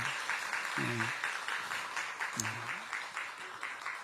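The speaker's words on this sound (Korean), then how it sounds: "한번 박수 한번 해드리세요." A church congregation claps together during a service for a departing pastor's wife, a steady dense patter of hands that runs the whole time, with a brief voice or two rising over it.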